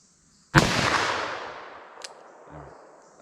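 One loud, close 10mm revolver shot on a range, a sharp crack followed by a long fading echo, then a faint click.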